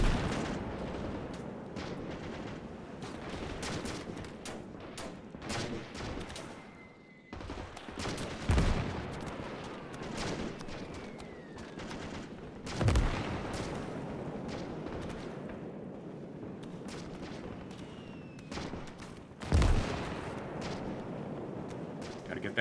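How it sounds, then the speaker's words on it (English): Incoming mortar fire and gunfire in a WW2 Pacific battle game set on Saipan: a steady wash of distant small-arms fire rattles throughout while several heavy mortar impacts thump in at spaced intervals, with faint voices now and then. "Yeah, those mortars are coming in hot."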